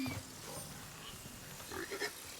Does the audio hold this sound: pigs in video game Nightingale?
yes